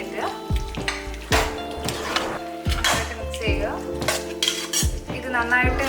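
Squid thoran, a Kerala-style stir-fry, is mixed in a pan with repeated clanks and scrapes of a spoon against metal and a soft sizzle underneath, while a person talks throughout.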